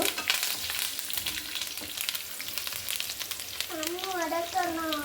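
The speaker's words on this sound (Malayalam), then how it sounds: "അതൊന്ന് ഫ്രൈ ആയി വരുമ്പോഴത്തേക്ക് ഞാൻ കറിവേപ്പില ഇടയാണ്" Curry leaves hit hot oil with cashews already frying, setting off a bright, steady, close sizzle. A voice rises over the crackle near the end.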